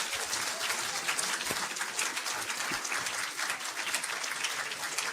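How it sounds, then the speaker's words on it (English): An audience claps for a panel speaker at a discussion of Allan Bloom's The Closing of the American Mind, dense sustained applause close by with no pauses and no speech. "you'll give him the applause that he's due"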